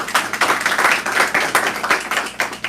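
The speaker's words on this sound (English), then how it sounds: "Give us one round of applause." Brief clapping from a small audience at a barbershop talk event, a few quick, irregular hand claps close by that fade within a few seconds.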